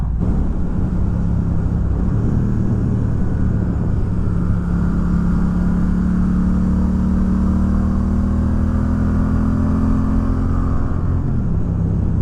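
A Triumph Thruxton R motorcycle with aftermarket mufflers drones loud and steady with a deep, throaty exhaust note, holding a constant pull with slight pitch shifts as it rides.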